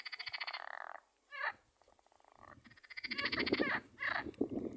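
Frogs croaking loudly nearby at Köprüköy, Turkey, in rhythmic, pulsing calls, several overlapping bursts with a short lull in between.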